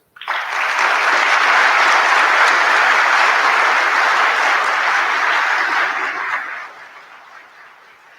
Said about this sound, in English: please give a resounding round of applause for the parents.